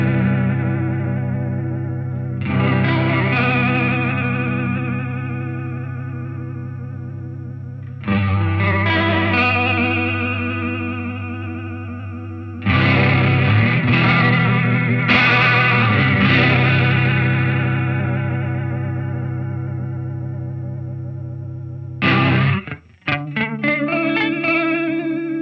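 Electric guitar run through a shimmering texture effect on Line 6 HX firmware v3.15, sustained chords swelling with chorus-like warble, distortion and echo, several long washes separated by fresh strums, ending in a few quick plucked notes, with no talk.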